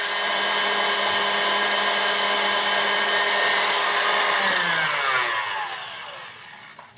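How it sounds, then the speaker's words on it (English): An electric mixer whirs loudly and continuously through carrot cake batter, a steady close motor drone that winds down and fades at the end, with no talk. "So I'm going to whisk this for about 2 to 3 minutes."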